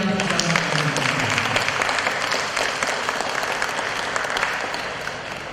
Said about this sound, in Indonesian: mari bersama-sama kita memberikan tepuk tangan yang meriah